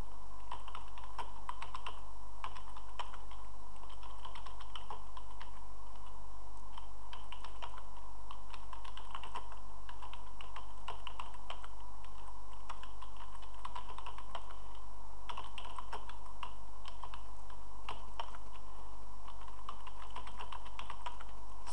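Someone types on a computer keyboard, tapping the space bar and enter key over and over. The clicks come in a steady, continuous run and sound close, over a faint low hum, with no voices.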